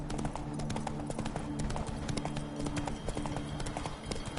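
The horse Roach trots in The Witcher III video game, its hooves making a steady, rapid clip-clop close by over a constant ambient bed, with no speech.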